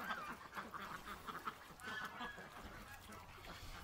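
Farmyard geese give scattered honks, faint and somewhat distant, with ducks quacking nearby and occasional low voices.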